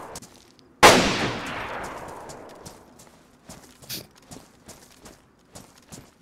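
One sharp, loud Blaze rifle shot fired at a locked container in DayZ, with a long decaying echo, followed by faint soft thuds and movement.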